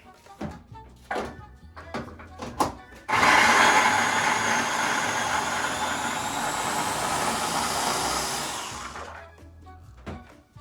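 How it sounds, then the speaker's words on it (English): A Ninja blender chopping green pepper, red pepper, shallot and parsley, a few knocks and clunks first, then a loud steady whirring motor for about six seconds before it stops, with more bumps afterward. "I'm going to make a little mixture here in my little Ninja with some green pepper, red pepper, shallot, some parsley. I'm going to blend it up."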